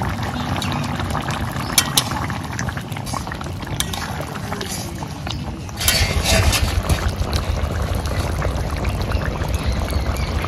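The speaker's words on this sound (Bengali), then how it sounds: "এবার ফোড়নের উপরে মাছের ঝোল ঢেলে দেব।" Fish broth for lau shol is poured onto bay leaf and radhuni tempering in a hot pan, a continuous loud splashing, sizzling gush that surges stronger near the end, with no talk.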